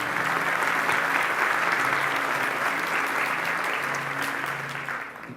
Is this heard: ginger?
no